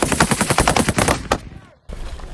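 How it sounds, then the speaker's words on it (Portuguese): Rapid bursts of machine gun fire during military training, loud and close, a dense string of shots for over a second before a brief lull and a fresh burst. "Munição, granada, metralhadoras,"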